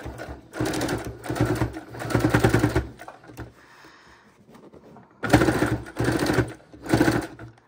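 Sewing machine stitching a scrappy fabric heart pillow, running in two bursts of rapid, even stitching with a quiet pause between, close and clear.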